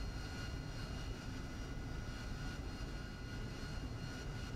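An AV-8B Harrier jet engine roars steadily on a takeoff roll in the DCS World flight simulator, a loud, constant, close rushing drone with no talking.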